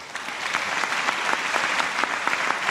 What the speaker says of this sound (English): we owe them a round of applause for their hard work